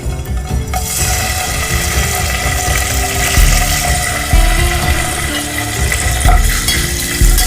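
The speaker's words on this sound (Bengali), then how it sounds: "এর মধ্যে আমি পনিরটা ভেজে তুলে নেব।" Paneer fries in a pan of hot oil and ghee, giving a loud, continuous close sizzle with bubbling and occasional stirring scrapes throughout.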